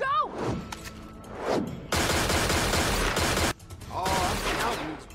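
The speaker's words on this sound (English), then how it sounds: "Oh, I'm counting these bullets." Gunfire in the video game Tales from the Borderlands: a loud, dense burst of rapid shots and impacts between whooshing, swerving effects, mixed with game sounds.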